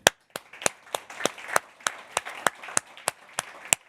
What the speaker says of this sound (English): I want to say a big thank you and a clap to our host